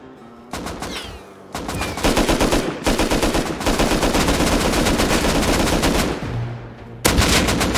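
Loud, sustained automatic gunfire from the survival game Rust, dense bursts of rapid shots running almost continuously with brief pauses between volleys.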